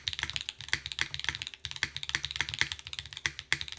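Typing on a Keycult No.1/65 keyboard fitted with GMK Obscura keycaps and lubed Nixie switches: a steady run of crisp, close keystrokes with deep, rounded clacks, alone and quite soft.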